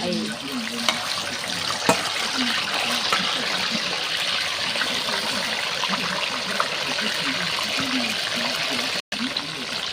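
Marinated fish sizzling steadily in hot vegetable oil in a pan, a constant bright crackle that fills the whole clip, with faint voices murmuring underneath.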